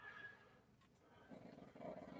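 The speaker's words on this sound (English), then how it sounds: "the snores of my little dog" A small dog snores nearby, with low, faint, rough breaths that grow slightly louder toward the end over a quiet indoor background.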